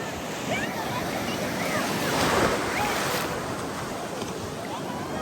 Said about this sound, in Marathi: समुद्रामधील लाटा उंचावत आहे